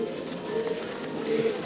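Racing pigeons in a loft, cooing softly and continuously in low, throaty murmurs against a steady background hum.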